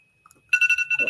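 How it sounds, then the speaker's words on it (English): A phone alarm rings in quick repeated electronic pulses, starting abruptly after a brief faint sound, fairly close and clear. "there's a ringing. That was my alarm."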